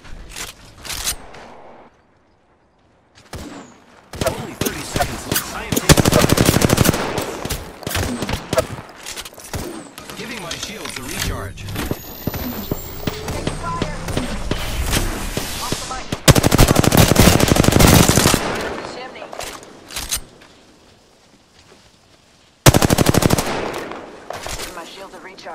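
Gunfire in Apex Legends, loud automatic bursts and rattling volleys repeating through the whole stretch with short pauses, game effects and a talking voice mixed in.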